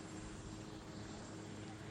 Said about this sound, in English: Just waiting now for the helicopter to take off, carrying George W. Bush.